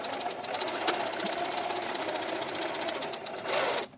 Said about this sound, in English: So right now we are going to sew across each of these corner lines.